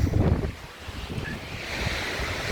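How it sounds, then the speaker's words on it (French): Strong wind gusts of more than 80 km/h rush past on an exposed ridge in the Cévennes during a mountain bike ride, a loud, steady roar of buffeting air on the microphone with no voices. "Aujourd'hui il y a des bourrasques de vent à plus de 80 km/h."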